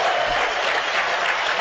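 Dense audience applause at a hacker conference press event opening, a steady wash of many hands clapping, loud and continuous without pause.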